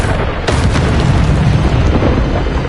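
Incendio fire spell blasts in the Hogwarts Legacy video game, a loud booming burst followed by a rumbling, crackling roar that sustains densely throughout.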